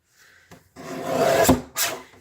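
Card stock is trimmed along a thin edge for a handmade card gift box: a brief scrape, then a longer close scraping cut, ending with a short, sharp rasp.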